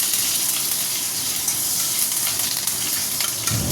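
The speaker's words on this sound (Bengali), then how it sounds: "কড়াতে শুকনো লঙ্কা আর জিরে দিয়ে দিয়েছি, এবার এই যে কারি পাতাগুলো দিয়ে দেবো" Curry leaves hit hot oil already holding dried red chillies and cumin in a kadai, giving a loud, steady, continuous sizzle with crackle throughout and no one speaking.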